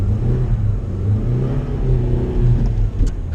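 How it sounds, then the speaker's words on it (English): A manual-transmission car sits on a snowy hill as the driver gives gas and pops the clutch; the engine revs in a steady mid-pitched drone while the wheels spin without gaining traction, close and continuous. "if I just give gas and pop the clutch out"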